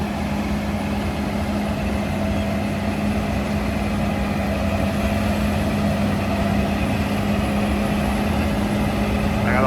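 A large combine harvester in an Idaho wheat field runs with a steady loud engine roar and a high whine, droning continuously without a break.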